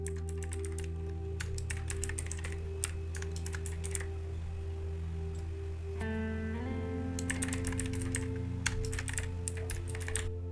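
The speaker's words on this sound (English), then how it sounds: "Now type in the next line." Rapid clicks of a computer keyboard tap out a command in bursts, with short pauses between runs of keystrokes over a steady low electronic hum.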